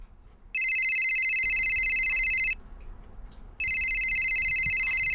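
A mobile phone rings in two loud electronic bursts, each about two seconds long with a short quiet gap between them, heard clearly over faint room noise with no one talking.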